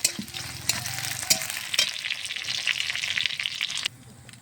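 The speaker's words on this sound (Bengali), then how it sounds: "কিছুক্ষণ চাপা দিয়ে রেখে আমি পেঁয়াজটা সুন্দরভাবে ভেজে নেব" Onions fry in hot oil in a pan, giving a steady bright sizzle close by, punctuated by a few sharp clinks of stirring, then quieting slightly toward the end.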